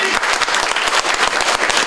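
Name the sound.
audience applause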